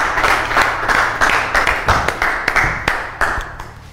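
A studio audience claps and applauds steadily for a guest DJ, a dense, lively round of hand claps with small accented bursts throughout.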